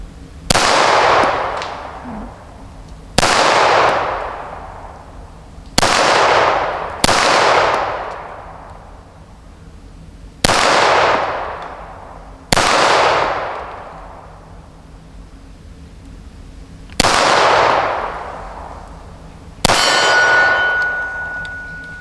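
Eight sharp metallic clangs from a steel popper target struck by shots from a Girsan MC P35 pistol, a Hi-Power clone, spaced a few seconds apart, each ringing out and decaying before the next.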